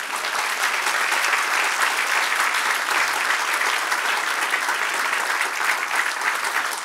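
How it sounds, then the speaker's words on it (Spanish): A church congregation applauds, a dense, even wash of clapping from many hands, loud and steady throughout with no pauses. "Den un aplauso, Señor."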